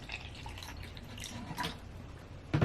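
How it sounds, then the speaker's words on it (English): Water-diluted bleach solution is poured from a measuring cup into a container, giving soft, intermittent trickles and drips that end in a louder splash. "And we're going to pour that right on in here."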